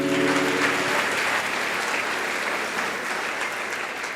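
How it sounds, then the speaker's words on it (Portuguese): A church congregation claps in dense, sustained applause that fills the space, with a faint hum of voices beneath it. "Aplauda ao Senhor."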